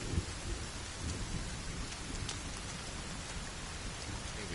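Heavy rain pours steadily in the survival video game The Forest, a dense continuous hiss of falling water with rumbling thunder mixed in and no voices.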